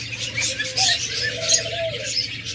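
Rainbow adult budgerigars keep up a busy chatter of high, scratchy chirps and warbles, several birds at once, moderately close, over a low steady hum.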